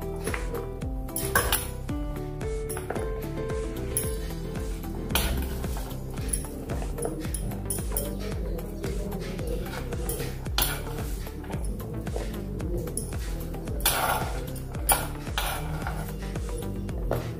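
Chopped onions scraped from a board onto a plate, with a busy run of metal clinks, knife taps and dish clatter ringing close by, some tonal background music underneath and no talking.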